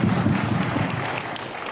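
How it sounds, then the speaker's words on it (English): An audience at a fan convention applauds, a brief wash of clapping that is fairly soft and steady and slowly thins out over under two seconds. "This is applause for you."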